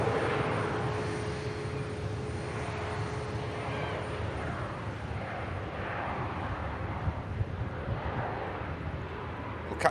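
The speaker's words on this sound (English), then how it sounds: "capture this Helvetic departure for you" A Helvetic Airways airliner departing for Milan, its engines producing a broad, steady roar that holds loud and constant throughout, with a faint tonal whine running beneath.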